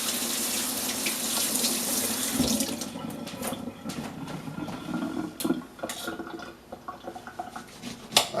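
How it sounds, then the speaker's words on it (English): Lemons rinsed under a running kitchen tap, a steady rush of water splashing into the sink with occasional handling knocks and drips as the flow eases, close and moderately loud. "Wash a couple lemons."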